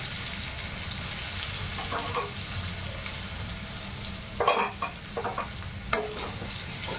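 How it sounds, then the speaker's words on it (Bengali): Pointed gourd pieces fry with half-cooked potatoes in a pan, a continuous close sizzle with bursts of spatula stirring and clattering in the middle and near the end. "আলুটা আধা ভাজা হয়ে গেছে, এবারে পটলগুলো দিয়ে দিচ্ছি।"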